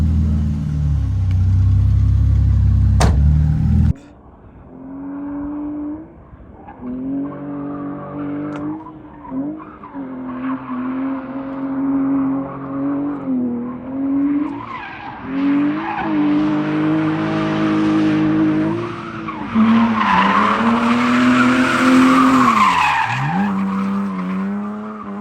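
A drift battle car's engine revs hard and holds high, climbing and falling in pitch, with tires skidding and squealing as it slides on a rainy track; loud and close throughout after a brief rumble at the start.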